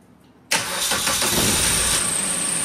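A Suzuki minivan engine, boosted by a 4-in-1 jump starter, cranks and catches abruptly after a short quiet moment, then settles into a loud, steady idle that holds close and constant.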